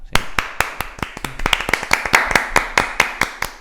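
Applause for a returning guest on a Catalan talk show, a sparse run of sharp individual claps from a small group, close and crisp, with no voices over it.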